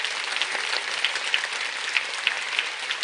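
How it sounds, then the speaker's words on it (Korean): A room full of audience members clapping steadily at a motivational talk, a dense even wash of applause with a few sharper individual claps standing out near and loud throughout. "본인에게 큰 박수 보내주시기 바랍니다"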